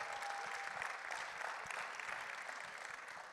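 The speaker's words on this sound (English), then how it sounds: "can we clap it up for our president one more time" Audience applause at a town hall and resource fair for the Eaton Fire, a dense, even round of clapping from a crowd lasting a few seconds.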